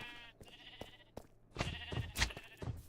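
Sheep bleat on a sheep farm in Minecraft, a few short nasal game bleats spaced apart, first thinner and then louder and fuller, with no talk.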